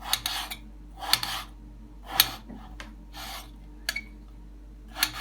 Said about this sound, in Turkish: Ben şimdi patateslerimizin doğramaya geçelim patateslerimizi